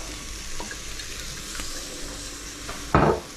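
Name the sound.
tomatoes frying in olive oil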